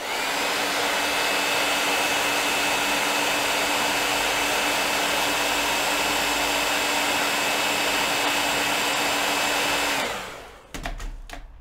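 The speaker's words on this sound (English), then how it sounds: "Heat gun." Heat gun drying a watercolor painting blows with a loud, continuous whirring roar for about ten seconds, then switches off and winds down, followed by a few light knocks.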